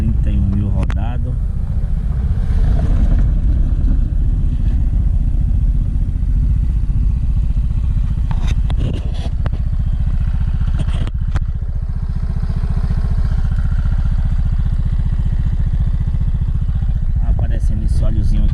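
A Honda Fluo 125 scooter with 31,000 km on it and an oil leak underneath, its engine droning loud and close with low rumbling and occasional clattering spikes, a voice talking over it.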